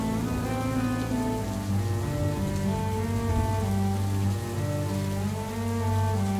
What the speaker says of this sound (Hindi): फिर शुरू हुई बारिश 2 दिन और 2 रातों तक।